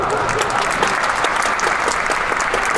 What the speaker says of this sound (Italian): Mi è sfuggito l'applauso.